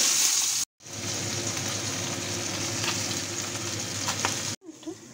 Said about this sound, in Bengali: এখানে তেল মোটামুটি আমার গরম হয়ে গেছে, সর্ষের তেল দিয়েছি। এখন এক এক করে মাছগুলো ছাড়বো